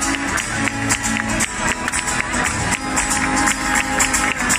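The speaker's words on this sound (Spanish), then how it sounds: "Necesito las palmas ahí" Audience clapping along to a live song, a steady rhythmic beat of hand claps over music and crowd noise, moderately loud and continuous.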